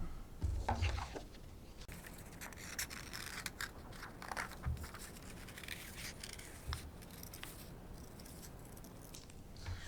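Scissors cutting out a traced paper shape for a homemade spectroscope, faint intermittent snips and rubbing scratches close by with a couple of soft thumps, quiet and without talk.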